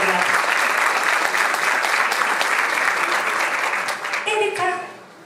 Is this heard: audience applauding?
yes